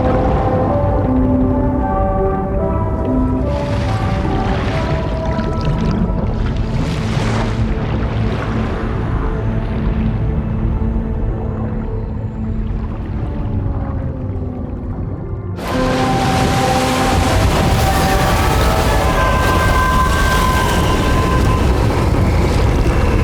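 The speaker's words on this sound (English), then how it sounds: "DHV Magellan surfacing." Deep rumbling mechanical drone of the DHV Magellan, a large vessel in the video game Death Stranding 2, surfacing from tar, with a steady low hum and watery churning that swells louder and brighter partway through.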